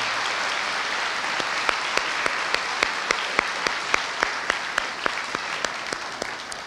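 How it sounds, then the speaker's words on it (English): An audience of kindergarten parents at a school gathering claps for the bus helpers, giving a full, sustained round of applause with one nearby clapper standing out in crisp, evenly spaced claps. "Can we please give all of our bus helpers a great round of applause?"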